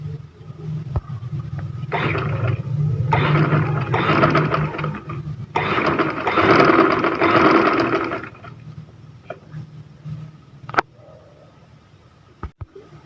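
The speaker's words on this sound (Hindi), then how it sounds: "जो लेस की सिलाई है उसी के ऊपर हम दोबारा से सिलाई लगाएंगे।" A sewing machine runs in several steady motor bursts, stitching over a lace seam on trouser fabric, close and fairly loud, then stops, leaving a few small clicks.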